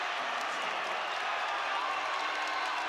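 Basketball crowd roaring and cheering after a freshman's dunk during a University of Washington versus Washington State Apple Cup game, a dense, sustained wash of noise filling the arena for the whole stretch.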